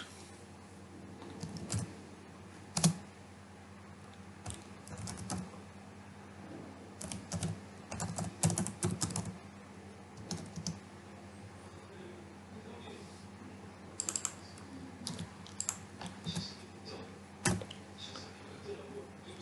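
Someone types code on a computer keyboard in irregular bursts of quick, close clicks with short pauses between, and no talking over it.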